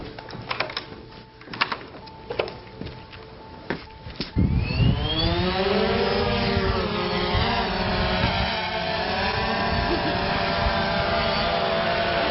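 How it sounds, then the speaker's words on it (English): A small drone buzzes near a pool, its whine starting abruptly after a few quiet clicks and then holding loud and steady, shifting pitch as it flies close by. "You boys know that you shouldn't be playing with the drone near the pool."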